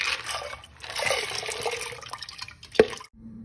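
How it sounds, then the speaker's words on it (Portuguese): Hominy corn kernels are rinsed under running tap water, a steady hissing splash that runs for nearly three seconds, ending with a single sharp knock before the water stops. "Lavar na água corrente e aí eu vou colocar para cozinhar"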